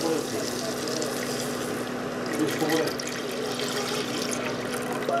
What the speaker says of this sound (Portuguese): Vamos acrescentar o leite.